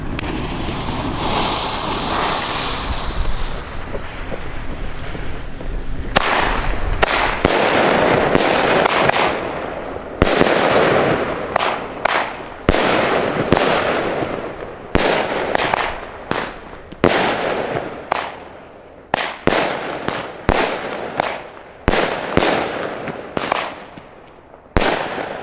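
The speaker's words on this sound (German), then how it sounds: "Eine sehr kleine 20 mm Salut-Batterie" A rapid series of sharp, loud bangs from a small 20 mm salute fireworks battery, starting as dense crackling and turning into distinct evenly spaced reports that ring out and decay.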